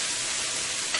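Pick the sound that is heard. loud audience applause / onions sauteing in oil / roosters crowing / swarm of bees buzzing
onions sauteing in oil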